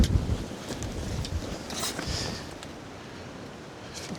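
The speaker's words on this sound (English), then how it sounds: "it's too windy" Strong wind gusts buffet the microphone at a lake cabin building site, giving uneven low rumbling bursts with loudest blasts at the start, fading to a steadier breezy hiss.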